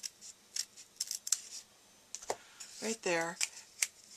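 Scissors snip along the edge of cardstock paper for a Thanksgiving napkin ring craft, several crisp close cuts in a quick series, with someone speaking briefly in between.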